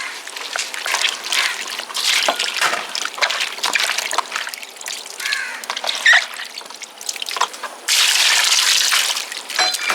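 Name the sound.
water poured over grapes for washing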